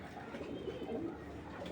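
A racing pigeon gives a soft, low coo, faint and brief, over a quiet background hum.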